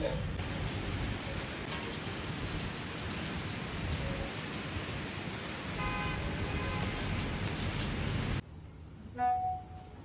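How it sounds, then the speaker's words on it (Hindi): Steady rain pours on outdoor surfaces, a dense even hiss that holds loud for most of the stretch, then cuts off abruptly to near quiet with a brief faint knock. "बारिश हो रही है।"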